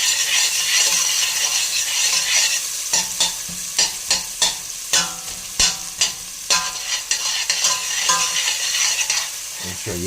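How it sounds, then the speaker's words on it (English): Onions being stirred as they fry for spaghetti bolognese, a steady sizzle throughout broken by a series of sharp utensil scrapes and knocks against the pan in an uneven rhythm, close and clear. "All we do is stir the onions"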